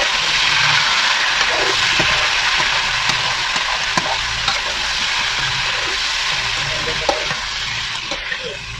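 Meat frying in very hot oil, a loud, steady sizzle with crackling pops running continuously and close by, easing slightly toward the end; no talking.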